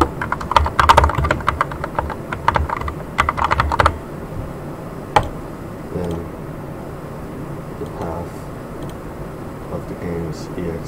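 Rapid clicking keystrokes on a computer keyboard come in a quick burst for about four seconds, close and crisp, then give way to a few isolated clicks over a quiet room hum.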